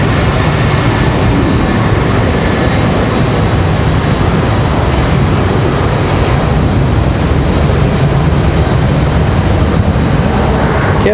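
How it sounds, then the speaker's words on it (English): An Airbus A319 airliner departing Raleigh-Durham airport gives a loud, continuous engine roar that stays steady throughout, with no voices. "Trying to capture this departure."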